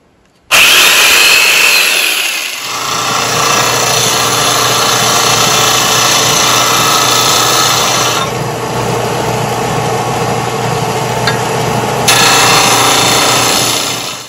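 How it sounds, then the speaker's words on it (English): A power saw cutting wooden dowels in half: a loud, continuous high-pitched whine that starts abruptly and holds steady for many seconds, with slight shifts in tone as the blade bites into the wood. "So now I've got all the wooden dowels cut in half"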